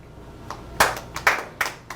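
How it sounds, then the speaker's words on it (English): Scattered hand claps from a live show audience, a few sharp separate bursts rather than sustained applause, moderately close. "Let's hear it by applause if you or your family served"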